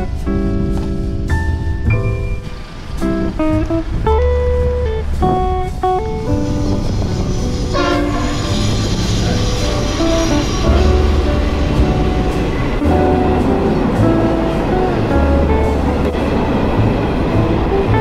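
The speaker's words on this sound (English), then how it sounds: "So hopefully we hear some trains tonight." A train passes on the Nullarbor railway line on a windy night, its loud, steady rumble filling the whole span, with long tonal horn blasts standing out early on. No one speaks.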